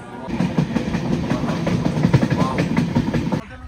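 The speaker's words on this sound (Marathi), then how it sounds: "तर आपण आता पोहोचलोय थिविम रेल्वे स्टेशनला" A train at Thivim railway station rolls past close by with loud, rhythmic clickety-clack wheel clatter that runs steadily, then cuts off abruptly near the end.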